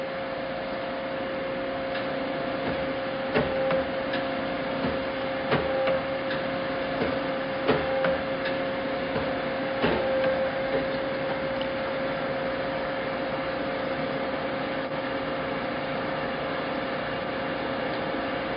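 A Winslomatic 400 hydraulic drill splitter grinder cycles through its run, a quiet steady mechanical hum with a faint tone and several soft clicks and taps spaced a couple of seconds apart.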